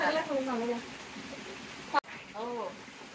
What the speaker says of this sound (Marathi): मोठा पाऊस आहे ना